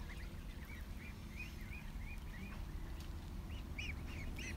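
Ducks from a large flock of about 1,200 on a farm quack in short repeated calls at a moderate distance, over a steady background hiss, with no talking.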